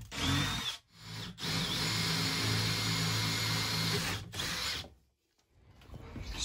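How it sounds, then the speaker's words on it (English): A power drill bores a hole through a wooden van unit for gas pipework, running loud and steady in long bursts with brief pauses, then stopping and restarting. "now I want to drill a hole through here to continue the pipe work through to the gas locker"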